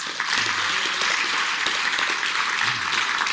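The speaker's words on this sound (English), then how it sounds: "Can we just give another round of applause?" Sustained audience applause at a Metro Council-related community event, a dense steady wash of many hands clapping, moderately loud and continuous throughout, with no talk over it.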